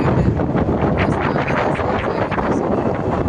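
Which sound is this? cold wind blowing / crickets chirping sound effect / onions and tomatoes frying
cold wind blowing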